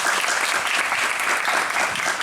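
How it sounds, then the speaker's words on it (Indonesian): Dense, loud clapping from a crowd of students at a boarding school gathering, sustained without a break for the whole stretch. "Tepuk tangan dong untuk semangat kita semuanya."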